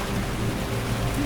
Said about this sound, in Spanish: Lo que escuchas de fondo es lluvia. Está cayendo un palo de agua inmenso, grandísimo.